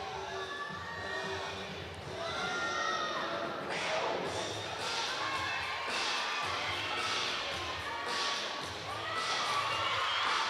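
Crowd at a Clemson at UNC college gymnastics meet cheers and claps in repeated bursts during a floor routine, loud and continuous with voices mixed through the noise.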